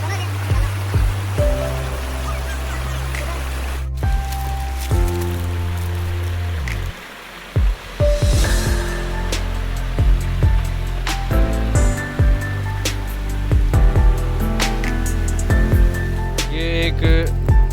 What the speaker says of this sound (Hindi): ये बहते हुए पानी को फील करना